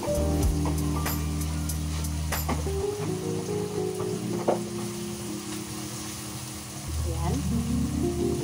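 Tomatoes sautéing in a pan for an eggplant omelette with sardines crackle and sizzle steadily, with stirring clatter and a low hum behind, and a voice speaking briefly.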